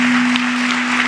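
A church congregation applauds in a steady, dense wash of clapping that stays loud and even through the whole short stretch, with a constant low hum underneath.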